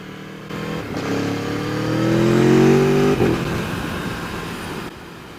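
A 2019 Aprilia Tuono 1100 Factory motorcycle accelerates hard, its engine note climbing steadily in pitch. A quick shifter cuts in with a brief gear change, and the revving then carries on. The engine is loud and close, with no talk.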